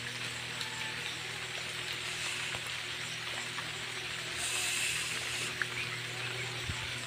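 Steady rain falling over a waterlogged vegetable garden, a soft continuous hiss of drops with a faint low hum beneath and a few isolated sharper drips, no voices.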